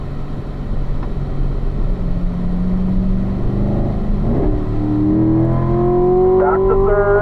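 A car accelerating on a race track, heard from inside: a loud, steady engine drone whose pitch climbs as the revs build, with an instructor's voice speaking over it.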